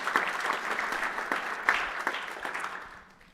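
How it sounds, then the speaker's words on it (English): An audience at a community peace and justice event applauds steadily for several seconds, a dense wash of clapping that tapers off at the end. "let's give them a round of applause"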